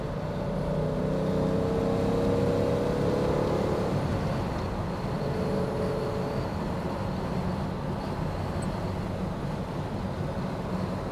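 A 1967 Maserati Mexico 4.2 with a five-speed gearbox drives steadily, its engine a continuous near drone with a brief rise in pitch partway through and no one speaking.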